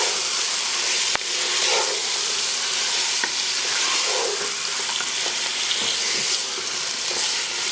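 Meat sizzles loudly and steadily in a pan with ginger and garlic, with a few scrapes of stirring for a biryani, and no talking over it.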